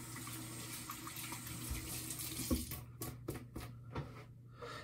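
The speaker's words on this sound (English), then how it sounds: "Let's get our razor under some nice warm water." Warm tap water runs steadily from a faucet as a safety razor is rinsed under it, a close, continuous splashing that breaks into uneven gushes and drips partway through.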